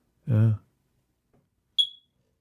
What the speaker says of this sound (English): It's a smoke detector.